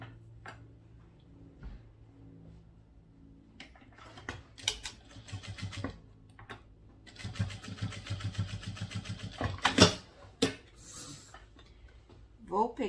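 A sewing machine runs a safety seam on a small half-moon bag in short bursts of rapid mechanical ticking, close and moderately quiet, with soft handling noises between runs.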